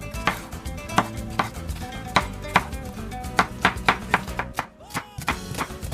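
A knife chops salsa ingredients on a cutting board in a steady run of sharp, close knocks, some quick and clustered, with faint background noise and no speech.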